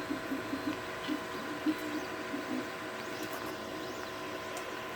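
Tenlong independent dual extruder 3D printer running, a faint, low hum with soft stepper-motor whirs and small tonal chirps repeating in short bursts, quiet and steady throughout with no voices.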